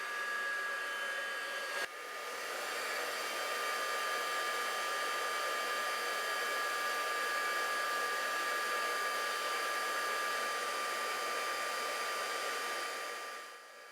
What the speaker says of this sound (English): This is basically just to keep the button from flying away when you use the heat gun.